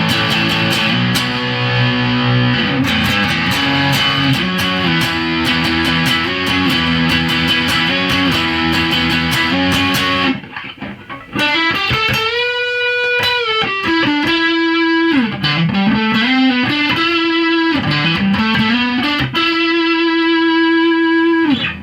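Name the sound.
electric guitar through Boss DS-1 distortion pedal with LED clipping diodes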